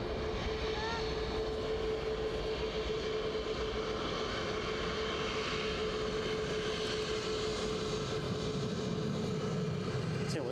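A Ryanair jet takes off at Edinburgh Airport, making a steady, broad engine roar with a faint whine that holds evenly through the whole stretch.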